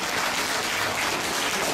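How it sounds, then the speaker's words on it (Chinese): A lecture audience at a book fair in Johor gives a steady, even round of applause, a continuous wash of clapping heard from some distance with no voices over it. "谢谢大家的鼓励和掌声"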